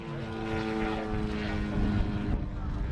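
A model aircraft performing aerobatic maneuvers at an outdoor model air show, a steady droning engine and propeller hum, with a voice talking over it.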